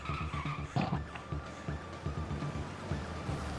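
In the Payday 2 video game, a car reverses hard and its tires skid and squeal over a running engine, with several short screeches across a few seconds and fairly quiet overall.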